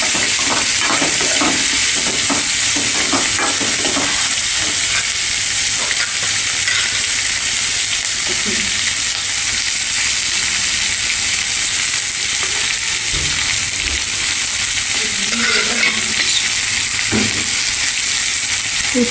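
Semolina roasts in a pan for kesar rava upma, with a steady, loud frying hiss and repeated scraping stirs that come in bursts, close by and with no talk.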